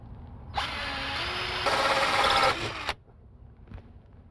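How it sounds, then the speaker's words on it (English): A power drill bores a hole through a boat deck for a rod holder, a loud whirring burst of about two seconds that rises in pitch partway, then stops abruptly, followed by faint handling noise. "And our hole is drilled."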